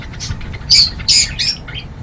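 A breeder pair of pet parrots, lutino birds kept in a home aviary, gives several short, sharp squawks in quick bursts, close and loud, with no one speaking.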